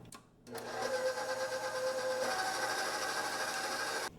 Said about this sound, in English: Then you're going to want to whisk this on medium speed until they start to become frothy.